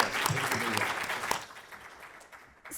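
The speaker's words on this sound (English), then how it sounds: "One more round of applause for Dr. Vu." Applause from a lecture audience after a talk on Vietnamese American food gardens: a burst of clapping that fades after about a second and a half into quieter room tone with a few scattered claps.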